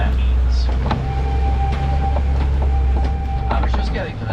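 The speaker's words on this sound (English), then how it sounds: "That whistle you hear, that is for the Wildlife Express train." The Wildlife Express train whistle at Disney's Animal Kingdom sounds as a sustained tone from a distance, heard over the rumbling of a safari vehicle and the noise of the surroundings.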